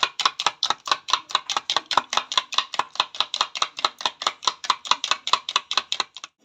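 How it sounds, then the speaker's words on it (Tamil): Eggs being beaten until frothy, a fast, even run of close, sharp clicks and taps from a utensil striking the bowl, about four strokes a second for the whole stretch, with no voices. "முட்டையை நல்லா அடித்து கொள்வோம்."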